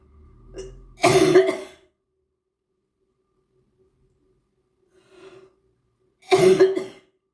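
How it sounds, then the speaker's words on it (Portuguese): Two sharp bursts of coughing from one person, about five seconds apart, close and fairly loud, with a faint softer cough between them; no talking. "a bala me deu tosse."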